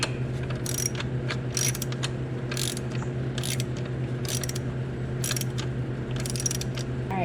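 A ratchet clicks in repeated bursts while loosening the upper bolt on a BajaRon sway bar end link, close and steady over a constant low hum, with brief pauses between strokes.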